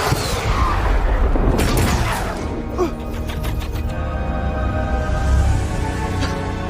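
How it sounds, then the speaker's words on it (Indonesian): A loud, rumbling explosion in a dragon film scene, with crashing debris over a dense, dramatic backdrop of sound, the roar lingering and fading rather than a single sharp bang. "sebuah ledakan membuat Hiccup tak sengaja menembakkan pelontar"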